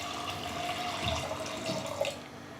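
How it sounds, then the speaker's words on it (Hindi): Water is poured into a pressure cooker holding French beans and peas, a steady close splashing and trickling stream with a brief louder splash near the end. "हमने इसमें तकरीबन 400 ml के आसपास पानी डाल दिया।"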